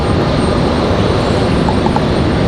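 An airplane at Raleigh Durham airport roars continuously, a loud broadband engine rumble with no pauses throughout.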